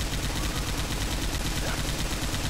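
Dense, continuous gunfire from the Left 4 Dead video game fills the moment, loud and unbroken rapid shots with no gaps, heavy and close throughout.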